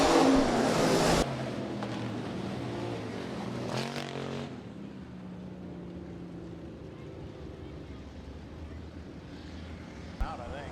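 Hobby stock race cars roar around Rapid Speedway during a heat race, a loud close pass in the first second giving way to a steadier, more distant engine drone.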